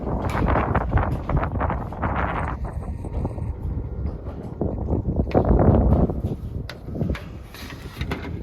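Steady wind buffeting on a rooftop during solar panel installation, a rough continuous rush with gusts swelling and easing throughout, loud and close to the microphone.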